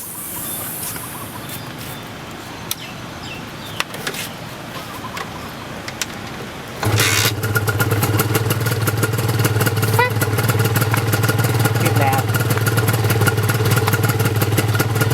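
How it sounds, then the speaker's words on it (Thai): A Honda NSR150SP Type 1 two-stroke motorcycle with a new exhaust fires up after a quiet stretch, then idles steadily and loudly close by with a buzzing, crackling tone. "สตาร์ทเครื่อง ระบบไฟทำงานหมดนะครับ"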